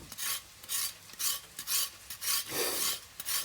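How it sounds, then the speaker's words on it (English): A kitchen knife scrapes the outer layer off a chicken drumstick in about eight quick, rhythmic rasping strokes, close and fairly loud with brief pauses between them. "You don't actually peel it, you just scrape off some of the outside."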